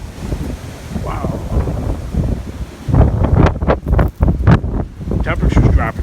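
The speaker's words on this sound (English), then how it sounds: "60-mile-an-hour wind gusts" Strong wind gusts of around 60 miles an hour roar and buffet the microphone outdoors. The rumble is steady at first and then grows louder and more broken, with a voice faintly mixed in.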